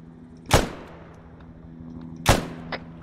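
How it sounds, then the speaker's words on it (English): Gunfire in the military simulation game Arma 3, with machine gun tracer fire coming in: two sharp, loud reports about two seconds apart, followed by fainter cracks near the end over a low steady hum. "But machine gun trace fire coming in."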